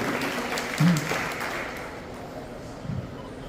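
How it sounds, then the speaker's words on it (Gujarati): Applause for costume competition participants at a Bible-character event, a modest burst of clapping from a gathered audience that thins out over a few seconds. "આપણે પુષ્કળ તાળીઓના ગડગડાટથી એમને અભિવાદન કરીશું, એમને વધાવી લઈશું"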